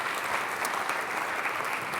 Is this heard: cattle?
no